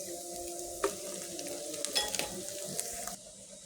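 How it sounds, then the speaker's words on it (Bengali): Boiled noodles tossed with scrambled egg in a hot pan for a mushroom noodle dish, a soft steady sizzle under scattered scraping and clinking stir strokes, fairly quiet and close, stopping abruptly near the end. "নুডলসটা দিয়ে সুন্দর করে মিশিয়ে নিয়েছি"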